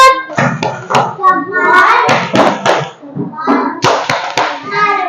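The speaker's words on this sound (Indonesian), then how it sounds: "Coba tepuk salut." Children in a classroom doing a rhythmic salute clap, sharp patterned hand claps mixed with their chanting voices, close and fairly loud.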